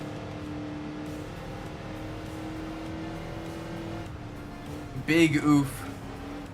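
A 1970s Corvette racing in Enthusia Professional Racing: a steady engine drone under speech, then a brief loud burst of tire and impact noise near the end as the car taps a wall.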